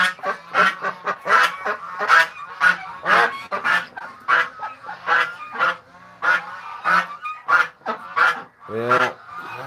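A flock of geese and ducks crowded together in a pen, honking and quacking loudly and continuously in rapid overlapping bursts, close up with no talking.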